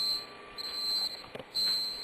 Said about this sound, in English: There's a beeping in the background.